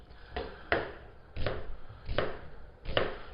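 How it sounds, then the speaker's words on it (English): Four medium onions being minced with a knife on a cutting board: sharp, close chops falling in a steady rhythm, about five distinct strikes with softer slicing between, no voices. "I'm cutting these onions up into kind of a nice mince"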